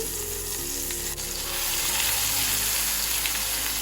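Raw tamarind chutney ingredients stew in hot oil, a loud, dense, close sizzle that swells a little partway through and holds steady, with a faint stirring touch and no talking.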